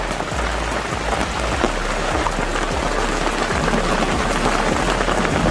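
Steady, dense rain falls in the forest of Kanha National Park, Madhya Pradesh, a continuous close hiss of drops on leaves and ground with occasional low rumbles underneath and no voices.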